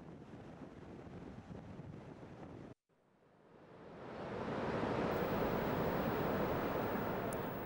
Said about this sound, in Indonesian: Gelombang laut dan hempasan ombak seperti ini tak selamanya menyenangkan.